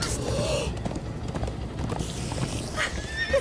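Horse hooves clatter in a quick gallop in Minecraft Story Mode, steady and close throughout, with a whinny and voices speaking over the hoofbeats.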